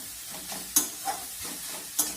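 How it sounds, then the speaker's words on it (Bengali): Chopped onion and half a large tomato are stir-fried in a pan for a vegetable filling: a soft steady sizzle with a few sharp clicks and scrapes of the spatula at irregular moments. "এবার সব কিছু আমি আবারও মেরে চেড়ে ভেজে নেব"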